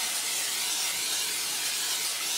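Cooking spray is sprayed onto chicken in an air fryer basket, making a steady, close hiss that lasts a couple of seconds with no talking.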